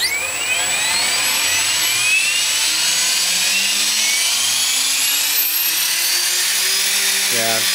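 A bench-mounted RC helicopter motor spools up and overspeeds, with a rising whine that climbs steadily in pitch over several seconds. It runs loud and continuous and close by, with a brief spike near the end.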